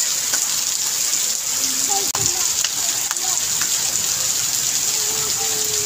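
Heavy rain pours down and water floods into a house, a steady hissing wash of rushing water close by, with a few soft voices underneath.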